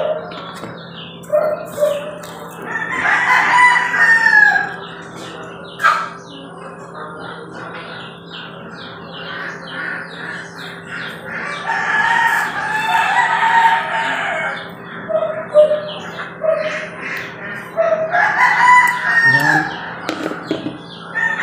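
Young chicks squabbling over food fill the air with repeated shrill peeps and chirps in several close bursts, separated by calmer stretches over a faint steady hum.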